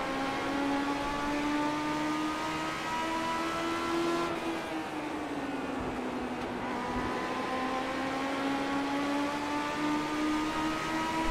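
In the iRacing game at the Bullring, a race car engine holds a loud, steady whine that dips as the car brakes into a corner and then climbs again while it powers out.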